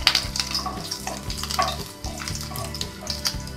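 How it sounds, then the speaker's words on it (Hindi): Small chopped pieces of ginger and a green chili hiss in hot oil in a pan. A close, steady sizzle is broken by a few clinks and scrapes of stirring, with no voices. "अब मैं इसमें मैंने जो अदरक काटे हुए थे छोटे छोटे टुकड़ों में उसे मैं डालूंगी, और मैंने एक जो हरी मिर्च ली थी उसे मैं इसमें डालूंगी"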